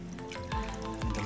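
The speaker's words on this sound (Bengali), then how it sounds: "তার উপরে জল দিয়ে আমি জলটাকে ভরে দেবো" Stored rainwater poured into a container for lotus seedlings, a short close trickle with small splashing drips, heard alone.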